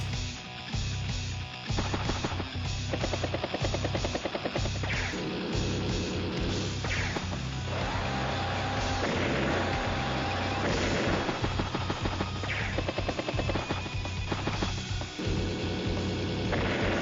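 Game-board combat in Advance Wars: Days of Ruin, a battlecopter and artillery exchanging fire as steady, dense rapid shots and booms layered over continuous game music, loud and unbroken throughout.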